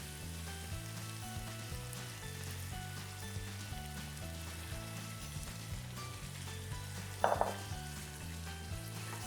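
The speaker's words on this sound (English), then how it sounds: "we're gonna add in our tomatoes, our San Marzano tomatoes" San Marzano tomatoes going into sizzling Italian sausage pasta in a pan, a steady frying hiss with a brief louder splash as they land, over faint background music, no talk.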